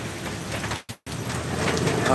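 Steady heavy downpour in Kottarakkara, a constant broad hiss that cuts out briefly near the middle before resuming, with faint speech beneath.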